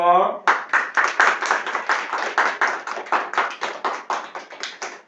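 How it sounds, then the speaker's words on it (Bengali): Children and an audience applaud at an inauguration of a handwriting training class, with steady rhythmic clapping in even beats for about five seconds, close and fairly loud, just after a brief voice at the start. "আমরা সবাই করতালি দিব"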